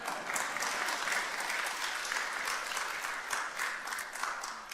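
A church congregation bursts into steady applause during a sermon, many hands clapping together in a dense, continuous wash that holds evenly for several seconds, heard from a moderate distance.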